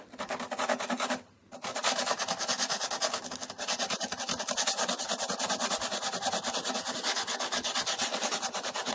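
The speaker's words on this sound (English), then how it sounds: "Bit of sanding paper on that. 240 to take the worst off." Steady rhythmic sanding, 240-grit sandpaper rubbing back and forth close up with a brief pause early on, no talking.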